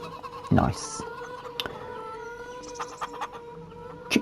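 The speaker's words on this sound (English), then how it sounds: "Chicken." Chickens clucking in the Farm Sim 25 farming game, a few short squawky clucks with a brief loud burst early on, over a steady background hum.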